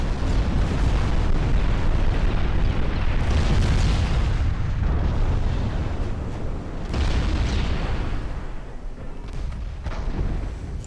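Torpedo explosions strike battleships and escorts in a naval warfare video game, a continuous loud rumble of heavy booms with several swelling blasts and no talking.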